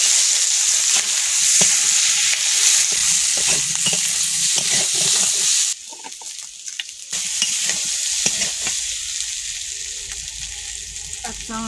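Chopped garlic fries in hot oil with a loud, dense crackling sizzle, occasional stirring scrapes, a sudden quieter patch as the sizzle drops, then steady frying again.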